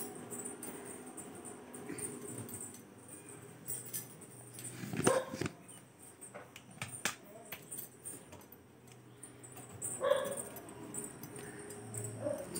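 A dog barking and whimpering nearby, with short sharp barks breaking through soft whining and scuffling noises at a moderate level.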